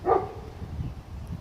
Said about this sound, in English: Excuse the dog, they always get excited in these sort of places.